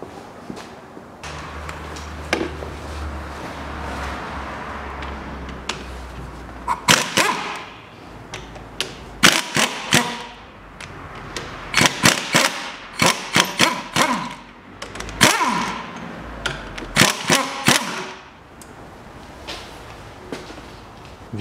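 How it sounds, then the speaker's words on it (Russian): Engine mount bracket being unscrewed on a 2011 Chevrolet Cruze 1.8 during a clutch replacement, with the engine hanging from a support beam. Irregular metallic knocks, clicks and wrench clatter sound close and come in bursts after a quiet start. "смело откручиваю кронштейн подушки"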